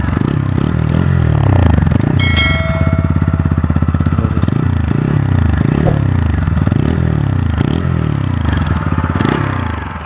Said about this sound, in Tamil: இப்போ நான் உங்களுக்கு வண்டியை வந்து ஸ்டார்ட் பண்ணி காட்டுறேன். இதோட எக்ஸாஸ்டோட சவுண்டு வந்து கேட்குறீங்களா